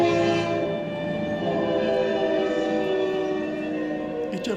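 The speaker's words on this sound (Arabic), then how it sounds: "اجى القطار" A train horn sounds as a stage sound effect in a theatre play, one long, loud, steady blast over the rumble of a passing train, with no voices.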